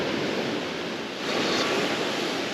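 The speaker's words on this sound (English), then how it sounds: "It's a little bit windy on the ocean this morning" Strong wind roars over the ocean on a blustery morning as waves wash against the shore, a loud, dense and continuous rush with a slight swell midway.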